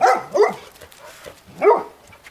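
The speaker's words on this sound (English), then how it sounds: "Quit barking. I can't make a video with you barking." A dog barks sharply three times, close by, with short gaps between the barks.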